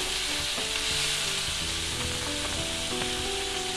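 Vegetables sauté with a pinch of salt in a pan, a dense, loud, unbroken sizzle close by with faint stirring underneath and no speech.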